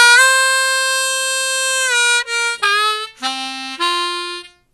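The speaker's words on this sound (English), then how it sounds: "4 draw to 4 bend, I like to do it legato." Harmonica moving from the 4 draw into the 4 bend legato: a long held tone, then a connected series of bending notes sliding downward, played solo and up close.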